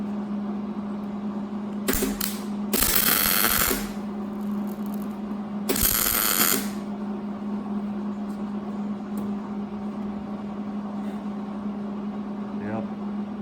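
Short bursts of MIG welding tack a nut onto a bracket for a rear-mounted fuel tank, several crackling tacks of a second or so each over a steady low machine hum in a shop.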